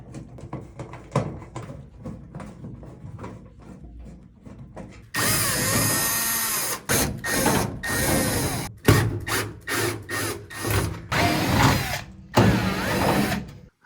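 Power drill or driver backing screws out of a GE dryer's top panel during blower motor replacement: quieter clicks and handling give way to several loud, close bursts of whirring motor with brief pauses between.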